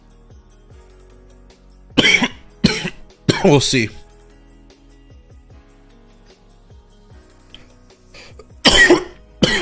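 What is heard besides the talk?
coughing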